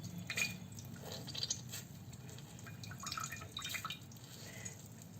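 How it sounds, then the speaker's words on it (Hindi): Soaked bread is squeezed by hand to wring out the water for a crispy bread and potato snack, giving quiet, close dripping and wet squishing sounds that come in small bursts, with no talking. "सारा पानी हमने इसका निचोड़ दिया है।"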